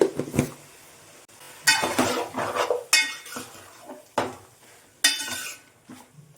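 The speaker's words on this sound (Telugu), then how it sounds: "ఇప్పుడు ఇందులో కొంచెం పసుపు కొంచెం కారం ఉప్పు కూడా వేసుకొని కలుపుకోవాలి" A spoon clinks and scrapes against a metal vessel while chicken is mixed with turmeric, chili powder and salt, coming in several short, loud bursts with quiet gaps and no talk.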